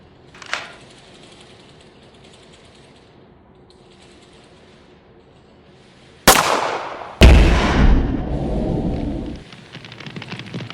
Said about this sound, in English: Take out your gun and shoot it.